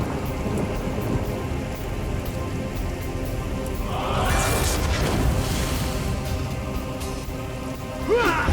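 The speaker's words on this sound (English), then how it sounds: "Rainfall! It never rains, but it pours," The Rainfall spell in the video game Divinity: Original Sin Enhanced Edition brings on a steady, heavy downpour with a deep thunder-like rumble swelling midway, close and loud, with no talking.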